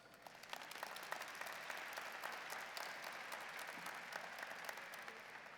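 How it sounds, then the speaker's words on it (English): Sustained audience applause at a university commencement ceremony honoring faculty, steady dense clapping from a large crowd throughout without a break. "A round of applause to our faculty and President Ellis."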